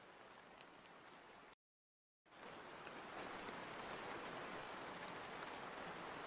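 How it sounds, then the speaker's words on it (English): Steady rain hisses as a soft, even wash of drops, faint and continuous, cutting out briefly before returning slightly louder. "How's that for the rain sounds?"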